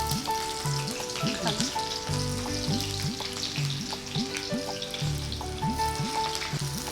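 Mustard seeds crackle and sizzle in hot oil for a Marathi-style tempering, a busy continuous frying hiss with scattered pops and stirring, close and moderately loud.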